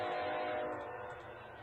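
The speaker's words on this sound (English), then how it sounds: "as we see the gates lighting up and the train horn approaching" Freight train horn sounding at a lit-up grade crossing at night, a sustained blast heard from a distance that holds steady and then fades slightly toward the end, with no talking.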